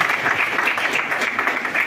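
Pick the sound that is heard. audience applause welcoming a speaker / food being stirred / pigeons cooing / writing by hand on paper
audience applause welcoming a speaker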